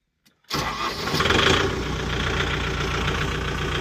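After a brief silence and a click, a Kubota MU5502 tractor engine cranks and catches, then settles into a steady, fairly quiet idle.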